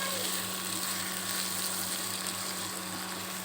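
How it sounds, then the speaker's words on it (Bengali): Onions with salt fry for chicken bhuna, giving a steady, even hiss of sizzling oil up close as they are stirred, with no talking. "এখন আমরা নেড়ে চেড়ে নিব।"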